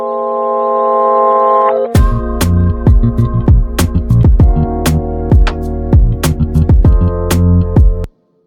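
A loud, dense electronic beat mastered with the Ozone maximizer, opening with a sustained synth chord before punchy, heavily compressed drum hits and bass pound in a steady rhythm, then stopping abruptly.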